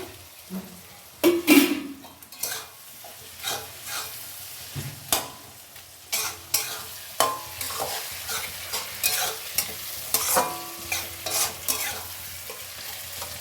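Tomatoes tossed into a hot pan with ground cumin, a soft sizzle under repeated scraping strokes of a spoon against the pan, irregular and fairly close, with no talking.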